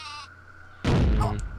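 Sheep weapon bleating in the game Worms Armageddon, a short synthetic bleat followed by a loud burst that sounds like an explosion.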